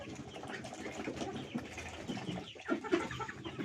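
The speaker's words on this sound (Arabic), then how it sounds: "شفتوا يا جماعه ديك عسول كده." Rooster among farm poultry in a backyard bird yard, busy with chickens and ducks, giving brief clucks and calls over a steady rustling, moderately close with no talk.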